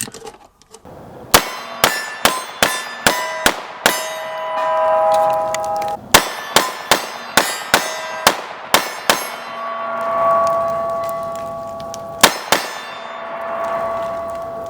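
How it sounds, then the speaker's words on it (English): Rounds of 9mm ammunition pressed into large pistol magazines with a Lula loader give sharp metallic clicks in quick bursts, each with a ringing tail, grouped in runs separated by short pauses. "this Lula loader comes in handy while loading these massive magazines"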